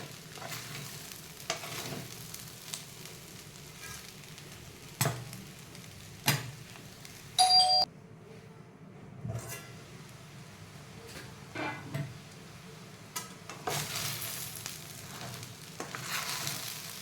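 Sabudana khichdi cooks in a frying pan under a soft, steady sizzle while a spoon scrapes and stirs from the bottom in intermittent strokes, with a few sharper metallic knocks and clatters.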